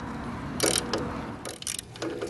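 A 10mm fitting is screwed into a scooter gearbox by hand, giving quick ratcheting clicks in short bursts with brief pauses between them, close and moderately loud.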